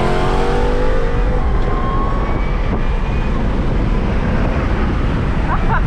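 A Tesla Model S Plaid launches hard in rear-wheel drive with traction control switched off, giving a loud, steady rush of motor whine and wind roar that holds for the whole stretch.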